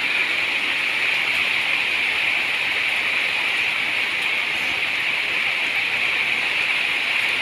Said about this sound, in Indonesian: Kita berteduh dulu hujan teman-teman ya